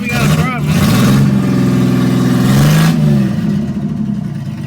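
A 1984 GMC S15 truck engine revving after a cold start, a loud steady mid-range drone that rises and holds for about three seconds, then drops back to a rougher idle.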